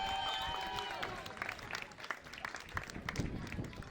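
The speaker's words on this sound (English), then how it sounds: "Can I have a round of applause to the bridesmaids?" Wedding guests at a reception applaud the bridesmaids after the speeches, a steady burst of clapping and crowd noise that stays loud throughout before thinning slightly toward the end.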